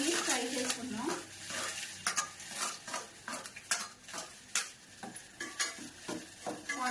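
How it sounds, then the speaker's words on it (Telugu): Onions frying in ghee in a pan while a spoon stirs them, with repeated scraping and clinking against the pan over a soft sizzle, close and steady. "ఫస్ట్ ఆనియన్స్ ఫ్రై చేసుకున్నాం"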